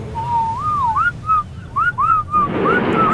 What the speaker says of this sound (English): You can whistle by pressing J.